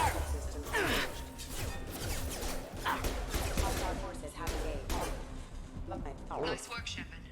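Heavy gunfire in Mass Effect 2 arrives as sharp, irregular bursts and impacts during a combat firefight, mixed with voices speaking over the shooting.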